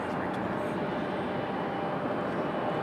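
JetBlue airliner at Raleigh-Durham International Airport, a steady broadband jet roar heard from a distance, even and unbroken, fairly faint.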